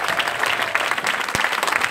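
Steady applause from an audience at a church prophetic night service, dense and continuous clapping filling the whole stretch without talk.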